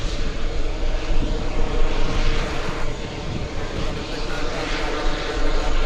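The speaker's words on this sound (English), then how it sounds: "The A350 is going to take off." Airbus A350 jet airliner taking off at an airport, a steady broad engine roar that holds loud and continuous throughout, with faint talk underneath.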